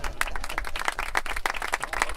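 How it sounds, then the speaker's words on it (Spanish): An outdoor group on a guided environmental walk in La Muela park applauds together, giving steady, fairly loud, close claps in quick succession for the full stretch with no talking. "nos vamos a dar un aplauso"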